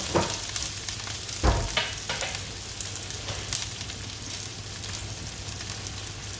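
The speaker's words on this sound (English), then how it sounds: "So just fry my onions now." Onions fry in a pan with a steady hissing sizzle, close and fairly loud, plus a few spoon scrapes and bumps near the start.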